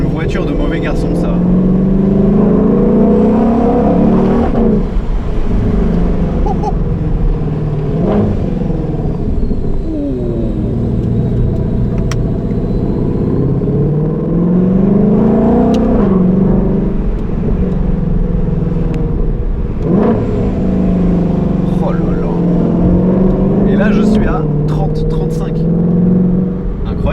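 Supercharged 5.2-litre V8 of a Ford Mustang Shelby GT500 rated at 771 horsepower, loud and close from the cabin, surging through repeated rising revs and gear changes, with someone speaking over the roar.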